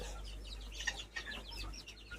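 A group of chickens, one of them large, feed together and cluck softly in short, scattered bursts over a steady low hum. No one talks.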